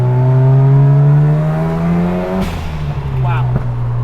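Mazda FD RX7 rotary engine revs hard while driving, its pitch climbing in a smooth rising whine before a quick shift drop and renewed pull; loud and close, with a voice speaking briefly over it.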